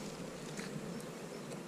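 Young housekeeping honey bees buzz inside an opened hive, a dense, faint, continuous hum of many wings close by.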